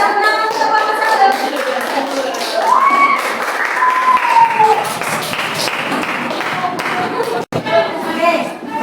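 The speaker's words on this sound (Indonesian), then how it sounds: "Beri tepuk tangan untuk Pak Masalah." An audience in a classroom gives a round of clapping for a presenter during a teaching practice assessment, a sustained patter of hands mixed with voices and a few thuds.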